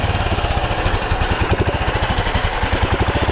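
The single-cylinder engine of a 2009 Royal Enfield Bullet motorcycle, carbureted and on choke, running with a loud, close, rhythmic thumping pulse throughout.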